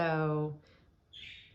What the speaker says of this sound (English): if you hear chirping in the background, we are caring for a friend's bird